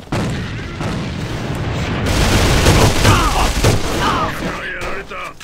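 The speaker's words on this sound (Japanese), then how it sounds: "手榴弾を使うぞ。" Grenade blast in the shooter game AVA (Alliance of Valiant Arms), a loud booming burst with chaotic gunfire and crackling debris that rolls on for several seconds, close and dense.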